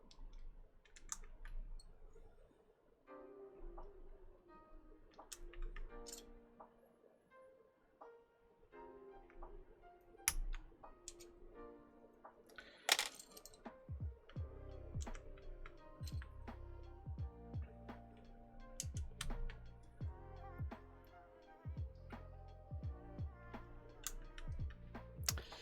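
Someone works on a 65% mechanical keyboard with scattered sharp clicks and clacks, irregular and close, at times separated by quiet gaps, with occasional thuds and rattles in the background.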